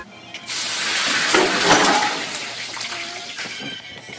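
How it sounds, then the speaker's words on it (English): A loud burst of sizzling starts suddenly as chicken hits hot oil in a pot, then settles into a steady crackling fry. "throw the chicken inside the pot, let that fry up"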